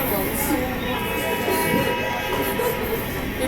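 A Norfolk Southern locomotive and its railroad cars roll by, giving a steady, loud rumble and clatter with no break across the whole stretch.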